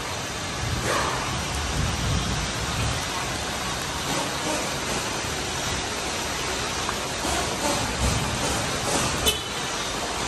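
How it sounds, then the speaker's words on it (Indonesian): Steady rain falls outside a car repair shop, a dense even hiss of drops that fills the whole stretch at a constant level, with a few faint knocks and clatters mixed in. "Ya, hari ni hujan cantik,"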